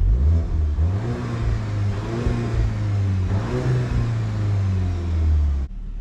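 A 2022 VW MK8 GTI in comfort mode revs close by, a low engine rumble rising and falling through two swells with no exhaust pops, then cutting off abruptly at the end.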